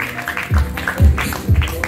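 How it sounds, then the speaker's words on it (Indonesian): A group claps in a steady rhythm of three beats about half a second apart at an evening student leadership training session at an Islamic junior high school, with voices mixed in. "tepuk tangan dulu"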